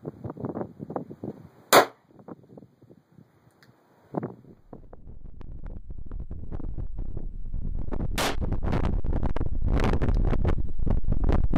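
Sharp gunshots from a Taurus 905 9mm revolver at an outdoor shooting range, a few distinct cracks among lighter handling noises, followed by a steady rising wind-like rush.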